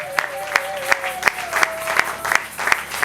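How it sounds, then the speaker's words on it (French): A church congregation claps and cheers for Jesus during a prophetic marathon service, with rhythmic, fairly loud clapping and crowd noise, while a sustained sung or shouted tone runs through the middle. "Continuez à acclamer Jésus très fort"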